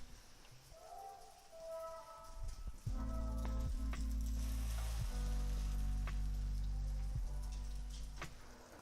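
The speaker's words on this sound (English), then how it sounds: "let's go ahead and toast the other sides too, these full sandwiches" Grilled cheese sandwiches toast in a pan, giving a steady crackling sizzle that swells sharply partway through as more sandwiches go down, then continues as a loud, even fry with a low hum underneath.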